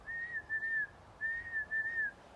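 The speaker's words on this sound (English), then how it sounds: "I'll explain the whistle commands." A shepherd blows sheepdog command whistles outdoors, four clear, high sustained tones grouped in two pairs, each pair with a slight rise and fall, sharp and close.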